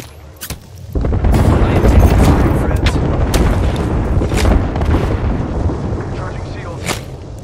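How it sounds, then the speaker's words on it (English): Apex Legends gunfire and airstrike explosions go off in a loud, sustained barrage of booms and shots after a brief quiet start, then thin out into scattered cracks, with a voice talking over it. "Darn shots fired, and they're hitting me."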